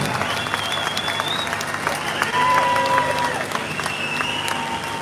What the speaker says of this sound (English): Give a massive round of applause for them.